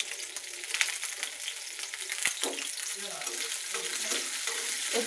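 Prawns land in hot oil with fried onion and green chili, giving a close, continuous sizzle with a sharp clatter midway and stirring scrapes throughout.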